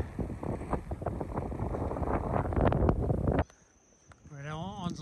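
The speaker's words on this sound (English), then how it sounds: "Windy." A strong coastal wind buffets the microphone with a loud, continuous roar for about three seconds before dropping away almost to quiet, and a faint whistling tone follows.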